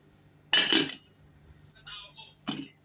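A metal lid clanks onto a cooking pot of Egyptian koshari sauce, a loud clattering set-down followed by small clinks and another sharp tap of metal on metal.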